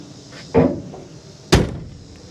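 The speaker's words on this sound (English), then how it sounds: "I got this door open and closing" A classic Ford Galaxie car door is worked open and shut, giving two solid thuds about a second apart, loud and close with no talking.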